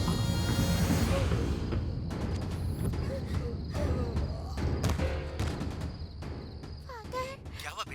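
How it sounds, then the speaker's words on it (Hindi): Gunfire in a Hindi-dubbed action film: a burst of rapid gunfire fills the opening, then scattered sharp shots and thuds continue under frantic voices and dramatic background sound. "क्या कोई गोलियां चला रहा है फादर?"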